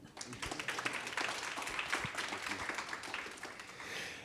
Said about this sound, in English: I think we should give them a round of applause just for being here